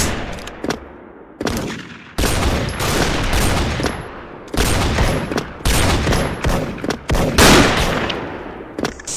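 Loud, rapid gunfire bursts from the Special Force online shooter, with clustered volleys and brief gaps like an intense firefight, close and continuous with no talking.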